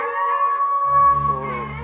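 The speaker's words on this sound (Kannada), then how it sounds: "ಏನಿದು ನರಿಗಳು ವಿಕಟವಾಗಿ ಕೂಗುತ್ತಿದೆಯಲ್ಲ?" Jackal howls used as a stage sound effect in a full-length Kannada Ramayana play: wavering, tonal cries that swell in the middle and stay steady and fairly loud for about two seconds, with no talk.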